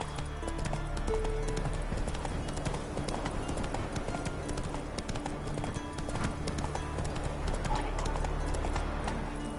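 Roach, a horse in The Witcher 3, gallops with steady rhythmic hoofbeats clopping close by throughout, over a constant background bed of ambient game sound.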